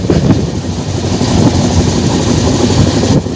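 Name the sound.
Tirupati–Santragachi Humsafar Express train passing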